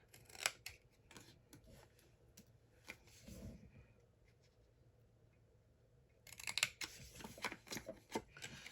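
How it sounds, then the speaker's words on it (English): Repeated snipping of scissors, quiet and close, in two bursts separated by a near-silent pause, with rustling of paper as blades cut for a jewelry gift box. "These scissors are a little bit weird for me to use, but they help."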